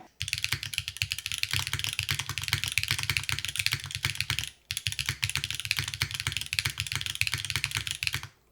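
Rapid, clacky mechanical keyboard typing on a Qi65 keyboard without a desk pad, close and bright, in two continuous bursts separated by a brief pause.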